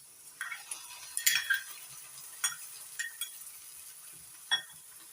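Onions and ginger-garlic paste frying in a pan, with a spatula stirring and clinking against the metal at intervals over a soft, steady background hiss.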